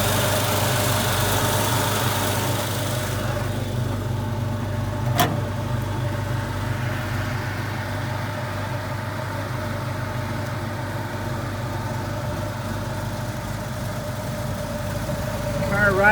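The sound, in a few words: 1953 Chevrolet 3100 pickup 350 engine with Holley fuel injection idling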